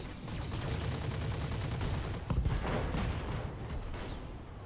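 Weapons fire in the mech combat game Roguetech as every gun unloads at an enemy leg, a dense rumbling barrage of blasts and impacts with one heavier hit midway, loud and continuous with no talking.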